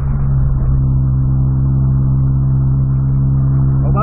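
A lowered Volkswagen Golf's engine runs loud and close with a steady, deep droning note and a slight lift near the end, with no talking.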